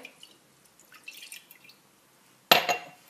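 Warm water poured into a bowl of semolina to start msemen dough, heard as a brief, close splashing pour that begins abruptly near the end after near-silence, with no talking.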